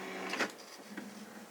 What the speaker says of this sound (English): my printer's making noises because I just printed these hot off the press